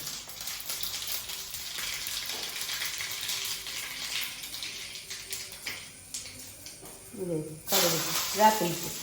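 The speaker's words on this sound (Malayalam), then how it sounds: "കടുക് പൊട്ടി ആകെ നീങ്ങിട്ട്" Mustard seeds spluttering in hot coconut oil as a tempering for a jackfruit seed, prawn and mango curry: a faint hiss with scattered popping crackles that grow louder toward the end, while people talk over it.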